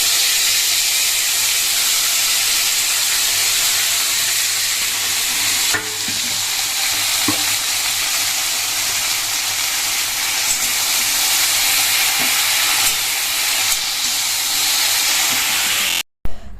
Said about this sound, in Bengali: তো চলো শাকটাকে রান্না করে নিই